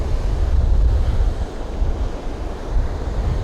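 Pacific Ocean surf rolls in at Pacific Beach as a loud, continuous low wash of breaking waves, with wind buffeting the microphone and no voices.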